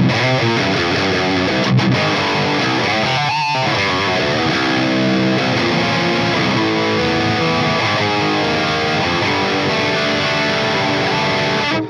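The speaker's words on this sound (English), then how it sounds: "And another thing that makes this distortion pretty special is the note separation." Electric guitar through a high-gain amp with the bright switch on and the gain cranked, loud saturated distortion playing continuously with ringing chords and one brief gap, no talking.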